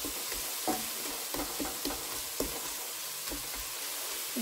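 Vegetables and masala frying in oil in a pan, a steady close sizzle with intermittent stirring clatters from a spoon, no voices.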